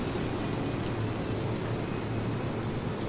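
A helicopter in Ghost Recon Wildlands drones in a steady, loud engine-and-rotor hum, continuous and close throughout with no talking.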